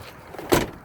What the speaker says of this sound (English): So the door now opens.